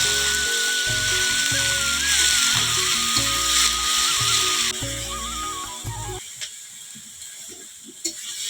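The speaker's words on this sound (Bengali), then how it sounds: "আলুটা খুব সুন্দর করে কষিয়ে নিচ্ছি" Potatoes sauté and fry in a pan with a steady sizzling hiss for about six seconds under tonal background music, then the sizzle fades to a quieter, sparse crackle with a few soft clicks.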